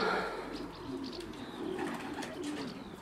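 A two-year-old racing pigeon arriving home from a 312 km race coos softly and fairly close, low throaty calls set against quiet outdoor background noise.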